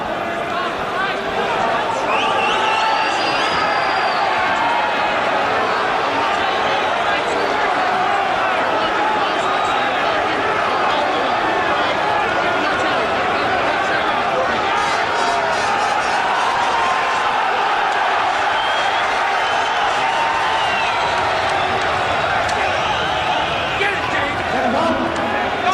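A large boxing arena crowd cheers and roars for heavyweight Frank Bruno before his fight with James "Quick" Tilis, a dense, steady wash of voices and shouts lasting throughout, with a commentator talking over it.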